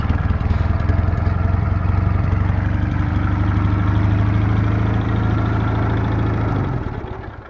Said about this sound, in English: The bike's relatively easy to start. Key on and she'll start up pretty easy.